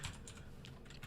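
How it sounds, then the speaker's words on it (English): Quick bursts of computer keyboard typing, close and fairly quiet, with several separate key clusters tapped in an uneven rhythm. "I almost typed in Spurs."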